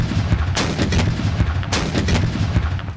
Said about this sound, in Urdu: معزز مہمان کو نور خان ایئر بیس پر 21 توپوں کی سلامی دی گئی۔